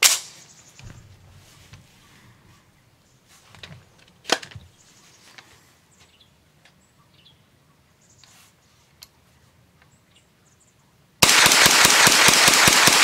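Rapid string of gunshots from a 9mm carbine fitted with an AKTIVE recoil buffer, loud sharp cracks in quick succession near the end, after a stretch of quiet handling clicks and faint rustles.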